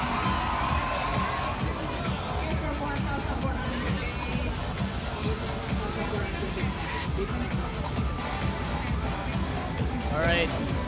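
A packed crowd cheers and shouts around the arena at a Dance Dance Revolution tournament, a steady dense roar of voices with occasional whoops, continuous and loud throughout.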